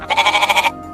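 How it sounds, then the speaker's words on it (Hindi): A goat gives one short, close, pulsing bleat lasting under a second, wavering rapidly in pitch before cutting off. "बकरी फिर बोली।"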